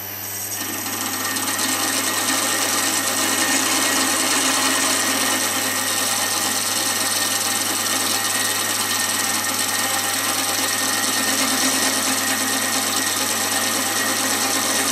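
A lathe spins slowly while turning a boxwood ring, producing a steady low motor hum and a continuous scratchy scraping of the cutting tool against the wood, unbroken for about fifteen seconds.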